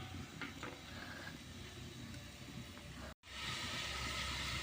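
Onions hiss and sizzle steadily in hot ghee for jackfruit biryani, a soft, even frying crackle that pauses for a moment and then comes back louder.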